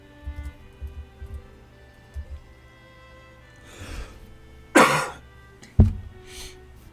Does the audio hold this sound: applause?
no